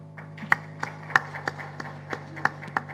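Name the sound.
audience clapping at a ceremony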